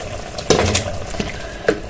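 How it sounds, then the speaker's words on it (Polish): Soft scraping and clinking of a utensil stirring mushrooms and pork loin in a pan, with a few distinct taps over a low sizzling background. "Gdy dodaliśmy pieczarki, przemieszajmy."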